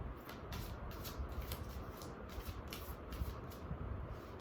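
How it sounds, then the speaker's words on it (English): Tarot cards being shuffled by hand, a run of quick papery riffles and flicks that repeat rhythmically at close range, with no talking. "Let's begin shuffling."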